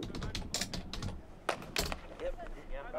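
Keyboard typing in bursts of quick clicks with loud keystroke transients, heard under and between nearby talking voices in a livestream setting.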